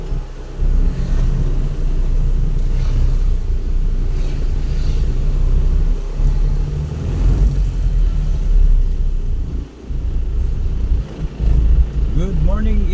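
Car driving through city road traffic in Iligan City, with a steady loud road and engine rumble and wind buffeting throughout, and a voice talking over it.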